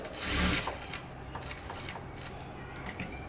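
A sewing machine stitching the back piece of a blouse, producing a quiet, rapid mechanical ticking with a slightly louder burst at the start.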